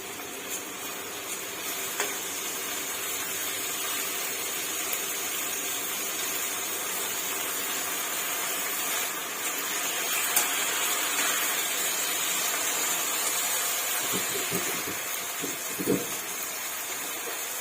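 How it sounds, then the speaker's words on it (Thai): Pork frying in a pan with fish sauce and sugar, giving a steady, close sizzle that hisses continuously throughout, with a few soft stirring knocks near the end. "ทอดๆไปเรื่อยๆจนกว่าน้ำสีแห้งค่ะ"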